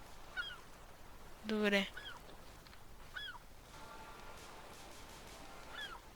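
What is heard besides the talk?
birds calling in the video game The Forest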